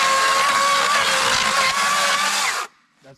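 A Cat 60V cordless chainsaw cuts through a wooden skid, a loud steady high-pitched whine with chain rattle held for over two seconds before it abruptly stops, followed by a brief faint sound.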